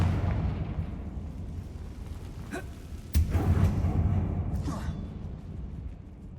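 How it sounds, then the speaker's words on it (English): The Confringo fire spell goes off inside an abandoned mine in Hogwarts Legacy. Several booming bursts sound over a low rumble, with the sharpest and loudest blast coming midway. "Confringo!"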